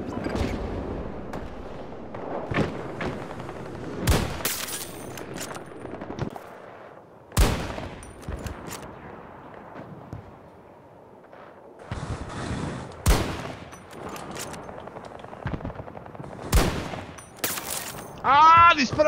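Gunfire from the Battlefield 2042 video game with sniper rifle shots: sharp, loud reports come in scattered bursts, some in quick succession, separated by quieter gaps.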